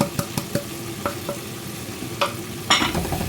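A potato and tomato masala with coriander powder, green chili and coriander seeds being stirred in a frying pan: scraping strokes and clinks over a soft, steady sizzle, close up, with a louder scrape near the end.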